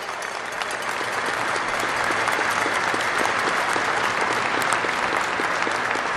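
Loud, sustained applause from a large audience at a navy ship keel authentication ceremony, a dense continuous wash of clapping that builds slightly and holds steady.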